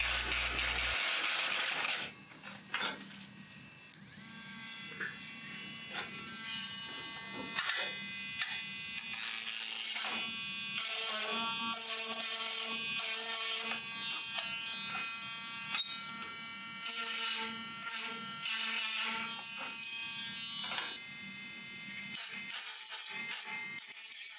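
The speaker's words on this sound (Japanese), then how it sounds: "このまま ミニルーターのサンドペーパーで磨きます" A mini rotary tool with a sandpaper bit polishes the igniter rod of a kerosene fan heater, giving a steady high-pitched whine with a brief gap, stuttering as the bit touches the metal, and a few faint clicks.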